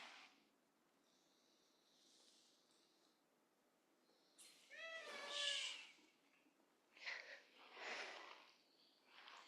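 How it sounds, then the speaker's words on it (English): A house cat meows and sings during a quiet morning yoga session, a few drawn-out wavering calls, the loudest in the middle, with softer sniffs and chirps around them and no talk. "Shushing a cat is probably futile."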